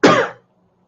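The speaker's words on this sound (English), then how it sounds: "coughing is painful" A single harsh cough with some throat clearing, close and loud, bursting briefly and then cutting to near silence.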